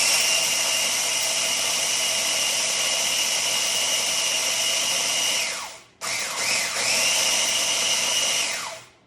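A mini food processor grinds gluten-free panko breadcrumbs into fine powder, a loud steady motor whine that cuts out briefly, restarts and then winds down, with no voices.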